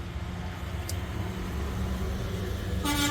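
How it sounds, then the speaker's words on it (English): A garbage truck rumbling steadily nearby with heavy engine noise, and a brief horn-like toot near the end. "It's the trash truck, might be a little loud."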